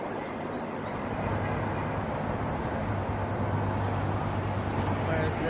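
Steady, dense roar of passing car traffic fills the whole stretch, loud and continuous with a low rumble and faint engine tones, no voices.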